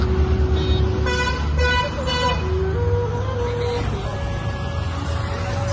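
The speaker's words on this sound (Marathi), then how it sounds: "दिघी बस स्टॉप, माऊलींच्या गाड्या चाललेल्या आहेत।" Palkhi procession vehicles roll past the Dighi bus stop at night. Engines hum at moderate loudness, a few short horn toots sound early on, and faint voices can be heard in the background.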